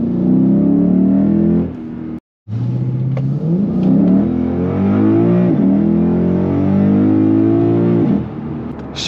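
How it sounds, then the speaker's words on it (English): A Lexus GS-F in sport mode revs up through the gears on its own, the engine note climbing and then dropping sharply at each crisp automatic upshift, loud and close, with a brief cutout early on. "what you just saw there was the car shifting itself in sport mode"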